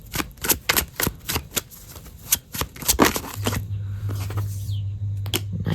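Close, crisp bursts of cards being shuffled in quick repeated riffles, then a steady low hum takes over as the shuffling thins out.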